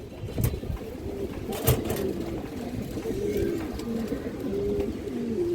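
Female Gorra pigeons with snake eyes coo in soft, repeated low warbling phrases, close by, alongside occasional wing flutters and small knocks.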